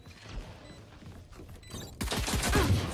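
Bursts of gunfire in the tactical shooter Valorant during a spike-planted round, loud rapid shots clustering in the last second after quieter game ambience.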